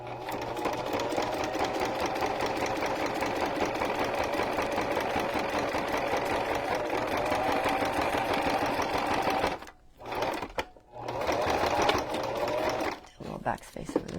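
A sewing machine runs continuously, stitching and backstitching over a ribbon on a junk journal cover, with a steady close needle drone that briefly stops twice near the end before resuming, while a voice speaks over it.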